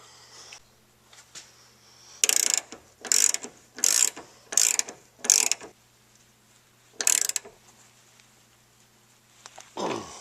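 A ratchet wrench tightens a car seat belt bolt fitted with a spacer and split washer, clicking in about six short, sharp bursts separated by quiet pauses.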